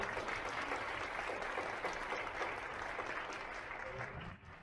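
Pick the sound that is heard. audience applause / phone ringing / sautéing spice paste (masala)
audience applause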